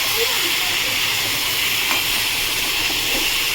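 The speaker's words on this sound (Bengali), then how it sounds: "ভেজে ভালো করে লঙ্কার গুঁড়ো দিয়ে দিলাম। সেটাকে ভালো করে কষাবো" Chili powder sizzling in hot oil in a pan with turmeric for a Bengali fish curry with ridge gourd and pointed gourd, a steady loud hiss and frying crackle throughout, close and continuous.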